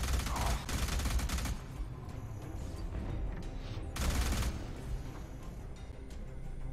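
Gunfire in the shooter Alien Rage Unlimited: dense rapid bursts of automatic fire crackling at mid distance, a heavy volley at the start and another a few seconds later, with steady shooting between.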